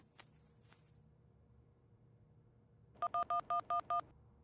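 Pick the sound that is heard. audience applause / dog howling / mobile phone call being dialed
mobile phone call being dialed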